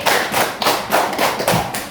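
A class of schoolchildren claps out a call-and-response pattern, sharp hand claps arriving in short grouped bursts with brief gaps, close and fairly loud, no voices over them.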